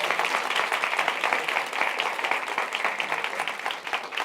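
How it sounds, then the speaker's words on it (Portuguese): Studio audience applauding the cameraman Lucas on a Brazilian TV programme set, a steady, dense wash of clapping that holds at an even level throughout with no talk over it. "Palmas para ele, gente."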